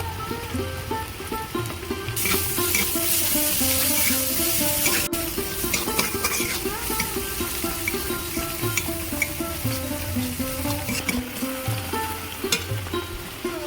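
Fried onion and garlic paste sizzle loudly in a pan for Bengali shrimp dopiaza; the hiss swells sharply after a couple of seconds and continues with rhythmic utensil taps and stirring.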